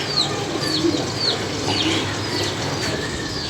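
Pigeons kept by a fancier coo repeatedly in soft, rhythmic phrases close by, over a steady background hum with a few chirps.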